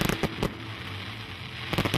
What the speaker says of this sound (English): A huge firework display marks the end of the festival.